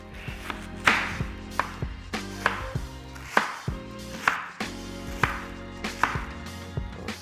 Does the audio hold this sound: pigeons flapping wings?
no